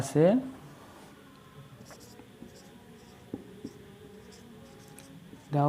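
Pen on paper writing out an algebra problem gives soft, close scratching strokes with a few sharper taps, while a voice speaks briefly at the start and end.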